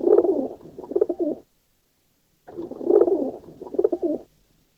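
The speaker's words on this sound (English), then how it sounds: "I've got 2 of my pigeons in here." Two homing pigeons in a basket coo softly in two separate bursts of low, throaty rolling calls, with a short quiet gap between them and no other sound.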